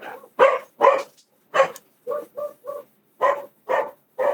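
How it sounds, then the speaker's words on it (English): Several dogs bark in repeated sharp bursts, about ten barks with short gaps between them, loud and fairly close, with no talking over them. "My dogs are barking."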